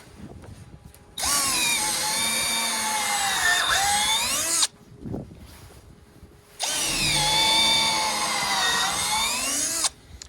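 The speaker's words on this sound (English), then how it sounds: "I'm gonna drill right into the 4x4 on these corners and install lag bolts" A power drill whines loudly in two long bursts, pitch sagging under load as it drives lag bolts into a wet wooden 4x4, with a short pause of handling noises between.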